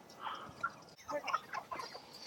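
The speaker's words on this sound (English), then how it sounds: "Big old cockerel." A large cockerel on a chicken farm clucks in short, irregular bursts. The calls are moderately close and fairly quiet over a faint background with no clear speech.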